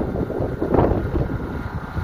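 Cold wind blows outdoors in desert land with snow on nearby mountains, a steady broadband rush buffeting the microphone with a brief gust surge, no speech.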